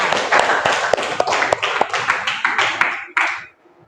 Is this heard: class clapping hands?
yes